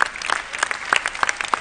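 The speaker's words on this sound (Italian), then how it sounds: "Goffredo Merolla, grazie, un applauso." An audience in a theatre claps continuously, a steady patter of applause from a moderately sized crowd with scattered louder individual claps.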